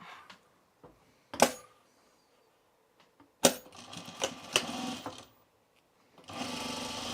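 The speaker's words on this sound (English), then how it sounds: "we're going to sew this at like a 5/8 inch seam here" A sewing machine runs a 5/8 inch seam on Mitchell trousers in short bursts: a quick whir, then a longer stretch of stitching, then a final run starting near the end. There are quiet pauses between the bursts and no voices.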